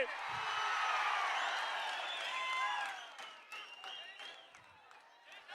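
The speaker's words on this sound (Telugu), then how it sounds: "అవునంటే గట్టిగా చప్పట్లు కొట్టి చెప్పండి" A crowd applauding and cheering, a broad wash of clapping with whoops over it that fades gradually.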